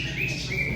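A bird chirps close by in two quick bright calls during a short, otherwise quiet moment outdoors near a truck being washed.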